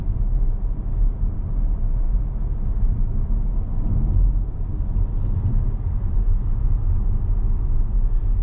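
A 2024 Volvo S90 T8 Recharge plug-in hybrid sedan taking a corner, heard from inside the cabin as a steady low road rumble and muffled drone with no distinct engine note, constant throughout.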